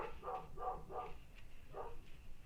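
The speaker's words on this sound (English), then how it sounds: "And if you hear the barking, that is my life." Faint dog barks come from a distance, three quick yaps and then one more after a pause, over low background noise.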